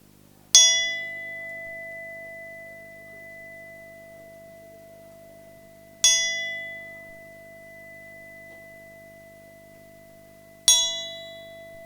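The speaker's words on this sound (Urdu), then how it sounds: "اس گھنٹی کی آواز 3 دفعہ بجے گی" A meditation bell rings three times at a slow, even pace, each strike a bright, clear ding that sustains a steady ringing tone and fades gradually into a quiet room before the next one.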